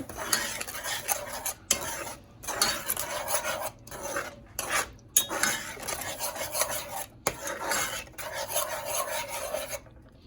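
Steady scraping and stirring of a spoon through thick tomato sauce in a pot, continuous with brief pauses, close and fairly loud.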